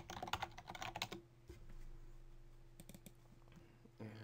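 A quick burst of typing on a computer keyboard while renaming a layer in GIMP, close and crisp, then quiet room tone.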